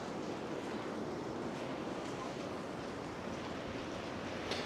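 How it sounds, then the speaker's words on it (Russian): Ocean waves breaking steadily on a shoreline near a small bay on São Tomé and Príncipe, a dense continuous wash of surf with wind noise and no pauses. "Видно, как волны разбиваются о берег."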